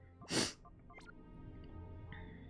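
One sharp sneeze bursts out near the start, followed by quiet room noise and faint rustling.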